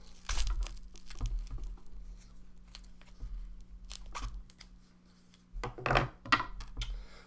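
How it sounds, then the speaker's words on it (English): Close-up snipping, crunching and tearing sounds come in irregular bursts as pruning shears cut a desert rose out of its plastic pot through roots and plastic, with a faint steady hum beneath. "cut him out of his original pot"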